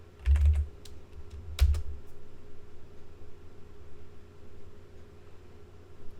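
Two short bursts of computer keyboard typing, near and crisp, come early, then fade into a quiet hum during drafting work in Rhino 3D modeling software.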